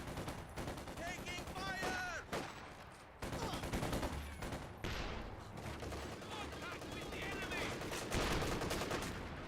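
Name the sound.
MG34 machine gun fire in video game Company of Heroes 2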